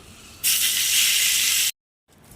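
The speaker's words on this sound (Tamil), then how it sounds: "இந்த தாளிப்பு அப்படியே துவையல் ஆட் பண்ணிடலாம்" Hot tempering with curry leaves and a pinch of asafoetida poured into a toor dal thuvaiyal gives a loud, bright sizzle that bursts in suddenly, holds steady for just over a second, then cuts off abruptly.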